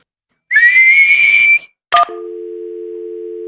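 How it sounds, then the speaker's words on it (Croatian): A cartoon pig character whistling with pursed lips: a steady sustained whistle tone for about a second, then a short squeak and a flat continuous hum, all loud and clean with no background. "Što je uopće zviždanje? Spojiš usne i puhneš."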